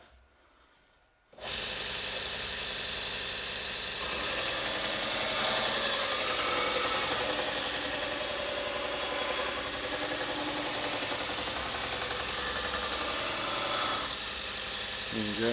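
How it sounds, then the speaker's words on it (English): A Pro Edge belt sharpening machine, fitted with a new belt, switches on abruptly after a quiet moment and then runs with a loud, steady, hissing grind that rasps continuously near the listener. "just switch on my Pro Edge."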